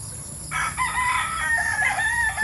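Stag roosters on a farm crow close by, one drawn-out cock-a-doodle call overlapping with others, loud and clear.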